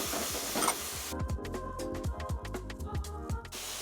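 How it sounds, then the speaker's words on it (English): Green beans stir-fry with garlic, low sodium soy sauce and mirin in a hot pan, a steady close sizzle broken by rhythmic scraping and tossing strokes. "we're just going to reduce the soy until it coats and glazes the beans"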